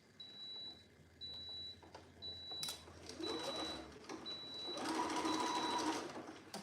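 A sewing machine runs in bursts as it stitches the neckband of a Molly dress, with a steady mechanical whir that stops and restarts, a high electronic beep repeating intermittently, and faint background voices.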